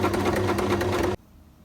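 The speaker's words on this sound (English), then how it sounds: "I just folded over the edges here, and I'm just going to top stitch" Sewing machine top stitching the edges of jeans pockets, running in a fast steady whir of needle strokes for about a second before stopping abruptly into near silence.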